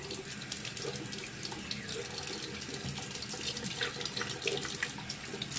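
Tap water runs steadily into a sink to rinse a detoxifying oxygen face peel off the skin, a continuous close splashing flow with no talking.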